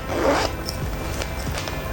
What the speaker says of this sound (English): Let's open up the set. It has a zipper.